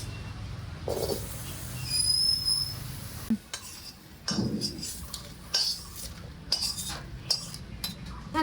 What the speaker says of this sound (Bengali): এবার এই মশলাগুলো আমি ভেজে নেব গরম করাইতে দিলাম